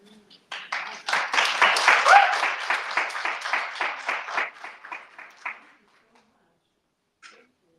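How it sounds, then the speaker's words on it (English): An audience at a freethinking society event applauds after an Arabic poetry reading, breaking into dense, crisp clapping that swells quickly. The applause then thins and fades out over several seconds, leaving near silence with one faint sound near the end. "Another round of applause."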